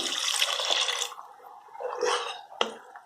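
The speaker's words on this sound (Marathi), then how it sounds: "पाणी घाला" Water is poured into a pan of potato and capsicum curry, giving a steady, fairly quiet splashing gush that eases off and then swells again before a brief sharp splash.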